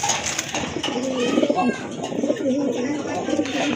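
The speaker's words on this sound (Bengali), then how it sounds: "এটা হচ্ছে আপনার মাদি কবুতর" A female pigeon coos in repeated low throaty calls close by, with a voice murmuring faintly underneath.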